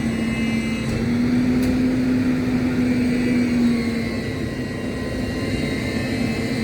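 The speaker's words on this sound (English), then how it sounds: "What you hear now is a trash truck doing its thing." A garbage truck working on a residential street gives a loud, steady engine drone with a sustained whining tone that holds throughout, close by and with no talking.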